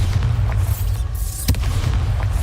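A Bombarda blast spell cast in the wizarding game Hogwarts Legacy gives one loud, sharp boom over a steady low rumble.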